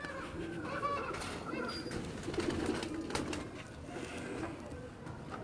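A pigeon held in someone's hand on a rooftop in Quetta, Balochistan, coos softly and steadily against a busy, noisy background, with faint voices nearby.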